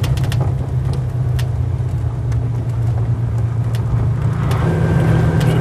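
Small Fiat 126p car driving on mountain roads in Turkey, its engine a steady loud low rumble from inside the car with light rattles and a slight rise near the end.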